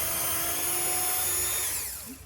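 Power drill boring screw holes for a DIY shop vac hose holder, a steady high whine held close and loud for about two seconds before winding down at the end.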